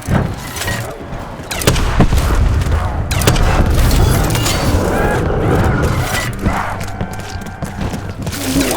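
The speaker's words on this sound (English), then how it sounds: "That sounded a lot wetter than an explosion really should!" Loud, dense booms and gunfire-like blasts rumble continuously in Black Ops 4 Zombies gameplay, with overlapping thuds and mechanical clatter close up.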